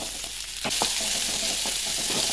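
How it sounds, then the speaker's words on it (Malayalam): A single onion dropped into hot coconut oil with ginger and garlic, bursting into a loud sizzle partway through and settling into steady frying, close up with light stirring and no talk. "ഇനി ഉള്ളി ഇട്ട് കൊടുക്കട്ടെ."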